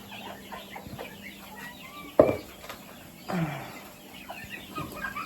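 Young poultry, chicks and small birds, cluck and peep softly nearby in a quiet coop, with a couple of louder brief calls and bumps standing out.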